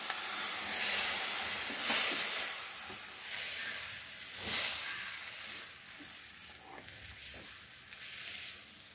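Water poured onto roasted semolina in a pan for upma gives a soft, breathy hiss and sizzle that swells and fades in small bursts, quiet and close.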